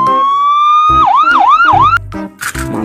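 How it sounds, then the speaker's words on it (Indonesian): A toy police patrol motorcycle sounds a loud, close electronic siren. A long rising tone turns into a fast warbling wail, then shifts into other siren patterns, with no talk. "Wih, motor polisi buat patroli teman-teman."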